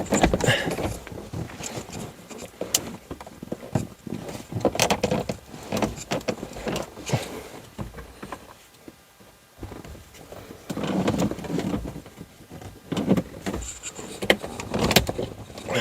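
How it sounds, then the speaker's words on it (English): Several sharp plastic clicks and snaps scattered among handling and rustling noises, close by, as a car's interior plastic trim panel is pressed and fitted into place. "Make sure you get a click sound going back in there"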